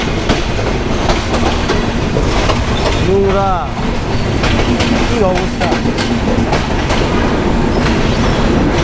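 A train rumbles past on the tracks in Dhaka near Khilgaon, with a continuous clatter and a couple of short squeals, while a person speaks briefly nearby.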